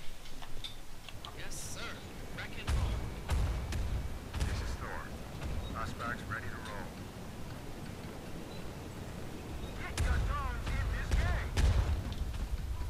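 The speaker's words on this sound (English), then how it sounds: "Calling all artillery, attack Foxtrot." Artillery fire in the video game Tom Clancy's EndWar: deep booming blasts and sharp cracks come in scattered bursts amid a busy battle soundscape, with game voices talking over it.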